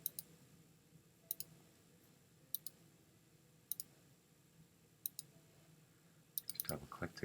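Computer mouse clicks while drawing in Adobe Illustrator: a sparse run of crisp, quiet double clicks about a second apart over a soft room hush, with a brief busier burst of clicks at the end.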